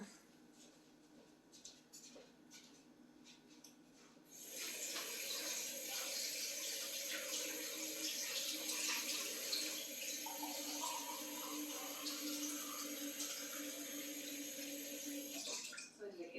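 Tap water runs steadily into a glass, a continuous close splashing flow that starts suddenly and lasts about twelve seconds over faint background noise.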